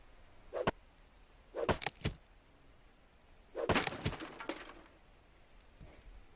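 Repeated heavy blows against a wooden door in the survival game Rust, landing as four clustered bursts of impacts with short gaps between them, fairly quiet and with no talk.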